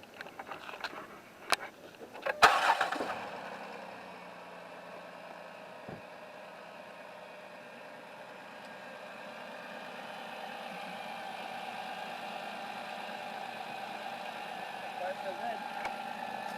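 A 2009 Dodge Grand Caravan engine cranks with a few clunks and a brief rising whir, then catches and settles into a steady, low idle that slowly swells slightly louder over many seconds.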